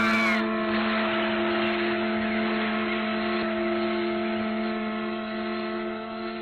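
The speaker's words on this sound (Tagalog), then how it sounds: "Sa palagay ko, malakas pa ang motor nito." An old motor engine runs in an anime scene, a steady droning hum with strong sustained tones, loud and continuous for several seconds with no talking.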